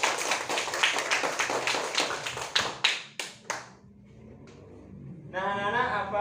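A group of young schoolchildren claps their hands together in a steady rhythm, loud and close for a few seconds before stopping; after a short quiet, an adult voice begins speaking.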